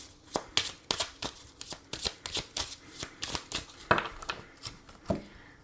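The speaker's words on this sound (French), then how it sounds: "on va voir également les messages au niveau amoureux. Donc avec cet oracle," Oracle cards being shuffled for a tarot-style love reading: a quick run of crisp riffling and slapping strokes, close and fairly quiet, with a few sharper card taps near the end and no talking.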